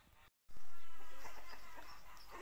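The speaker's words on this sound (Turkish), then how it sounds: "yine horozları kovalıyor" Roosters on a village farm cluck and squawk while being chased, a loud burst of flustered fowl calls that starts abruptly after a brief gap and then slowly fades, close to the listener.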